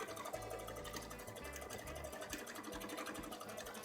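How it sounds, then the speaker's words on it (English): An embroidery machine stitches a cosplay petticoat, its needle hammering in a steady rapid rhythm with low motor hum, close and continuous throughout. "on a machine you design it and then the machine does all the embroidery for you"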